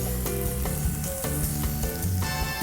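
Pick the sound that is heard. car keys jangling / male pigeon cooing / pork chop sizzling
pork chop sizzling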